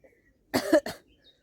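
A single close cough, two quick harsh bursts, in an otherwise quiet room.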